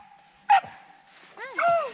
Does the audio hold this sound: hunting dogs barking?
yes